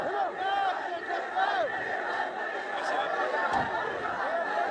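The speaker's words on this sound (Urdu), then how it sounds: "اب یہ نعرے نہ لگاؤ، ہماری بات چیت چل رہی ہے" Large crowd shouting and chanting slogans at a political rally, a loud, dense and continuous mass of voices with rising cries, heard close and filling the whole stretch.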